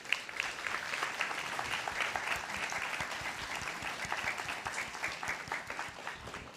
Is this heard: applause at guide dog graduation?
yes